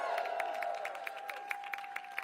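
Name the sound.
crowd applause at a Pride flag raising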